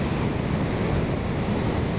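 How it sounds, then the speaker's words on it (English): Pacific Ocean surf on the Sonoma County coast in California on a January afternoon, a continuous broad wash of waves with steady low rumble and wind buffeting the microphone, no voices. "Here we are at the Pacific Ocean"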